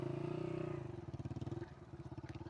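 A motorcycle pushes hard across sand dunes in the Cholistan desert, its engine a throbbing, pulsing drone that revs and labours unevenly, faint and somewhat distant throughout.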